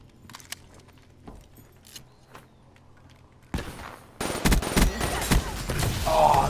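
Gunfire in Call of Duty Black Ops 3 starts with quiet clicks and steps, then erupts into loud, dense rapid shots over the last two seconds.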